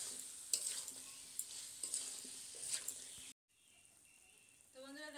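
Jackfruit and potato fry with spices in a pan, a soft sizzle broken by several light scrapes of stirring, then a brief quiet gap before a faint hiss returns.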